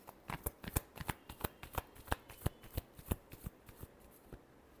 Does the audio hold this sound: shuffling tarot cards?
yes